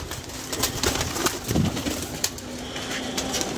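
Pigeons coo softly against a steady background hiss, with a few low, rolling calls rising briefly and no voices.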